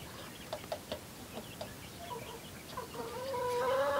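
Chicks and a rooster cluck softly while pecking at cabbage scraps, with scattered short calls and light pecking noises, then a louder, sustained vocal rising near the end.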